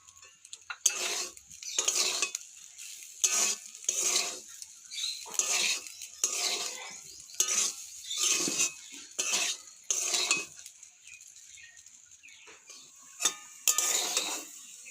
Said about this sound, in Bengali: আমি এতে আরেকটু স্বাদ মতো নুন মিশিয়ে দেবো।